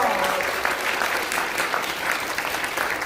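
An audience at a forum in a large National Assembly members' office hall applauds steadily, a full, even wash of clapping from a sizable crowd lasting the whole stretch.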